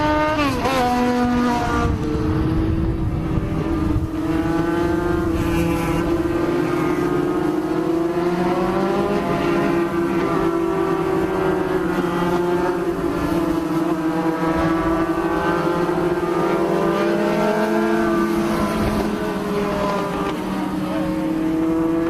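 Legend race cars lapping a championship-finals track after a restart, several engines droning loudly together with pitches sweeping up and down continuously as the pack accelerates and lifts, likely with a commentator talking over it.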